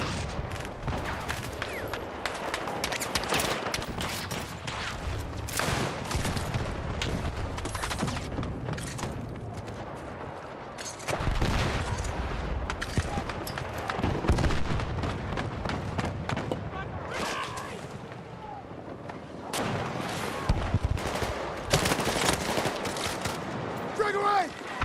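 Rapid gunfire bursts in a shooter video game, dense and continuous with intermittent volleys, heard alongside game effects and voices talking over the action.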